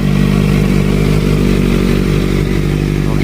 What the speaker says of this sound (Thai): เดี๋ยวขออนุญาตดับในส่วนตัวเครื่องยนต์นะครับ